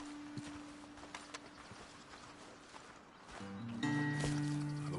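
Horses walking in the video game Red Dead Redemption 2, soft irregular hoof clip-clops at a slow pace, fairly quiet, before a rising musical tone near the end.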